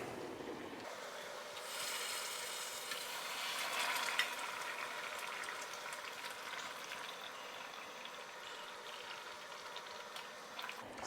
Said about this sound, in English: Now the kettle's boiled, let's add some water.